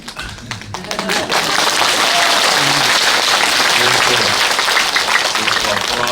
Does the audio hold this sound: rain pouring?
no